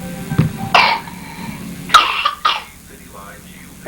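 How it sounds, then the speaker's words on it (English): A young child coughs a couple of short times in a home setting, close and fairly clear, with an adult's voice speaking softly nearby. "Do you have a cough?"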